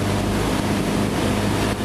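A Sonex AeroVee Turbo aircraft engine roars at full power during takeoff and climb, a loud, constant broadband drone with wind rush filling the whole stretch.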